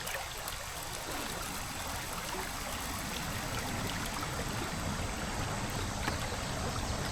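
Water flowing steadily through a Geo Sluice set in a dammed stream, a continuous near rushing and trickling wash at moderate level with no speech.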